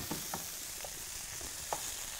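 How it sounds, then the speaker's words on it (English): A stir fry sizzles steadily in a hot pan, a constant crackling hiss with occasional soft clinks of stirring, no voices. "While that's just sizzling"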